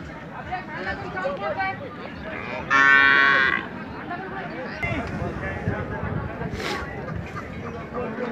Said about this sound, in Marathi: खूप छान गाय आहे ही